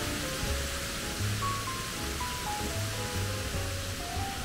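A waterfall at Wulai, Taiwan rushes in a steady, even roar throughout. Faint tonal notes drift underneath, and no one speaks.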